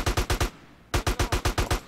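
Rapid bursts of gunfire in quick succession in the video game GTA San Andreas Definitive Edition, a short pause, then another fast volley of sharp shots, loud and close.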